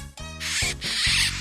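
A mouse squeaks in a short run of thin, high, scratchy squeals that come in two bursts within just over a second.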